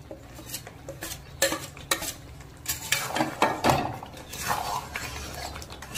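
Chicken pieces go into a pan of cooked spice masala, bringing scraping, clinking spoon-and-pan stirring and soft sizzling in irregular bursts, close and moderately loud.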